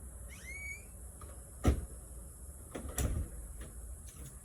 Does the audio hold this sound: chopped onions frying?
no